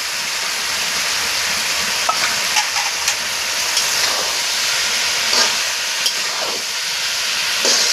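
Fish head and eggplant hitting a hot pan and frying, a loud steady hiss and sizzle filling the whole stretch with a few faint clinks and stirring sounds on top.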